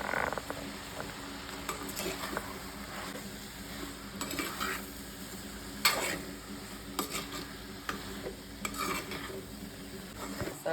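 Masala with a pinch of asafoetida fries in a pan for kolu kara kuzhambu, with a soft steady sizzle under occasional scraping and clicking stirs of a spoon, faint and close.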